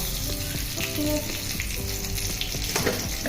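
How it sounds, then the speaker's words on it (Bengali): Whole cinnamon, cardamom and cloves sizzle steadily in hot oil as a tempering for a country chicken curry, a close, dense crackle with a few sharper pops and utensil clicks throughout. "ফোড়ন দিয়ে দেবো 2টো দারচিনি, 2টো এলাচ আর 4টে লবঙ্গ"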